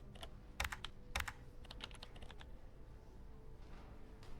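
Typing on a computer keyboard while playing Kathy Rain 2: Soothsayer, with soft, irregular keystrokes in quick clusters, faint and unaccompanied by any voice.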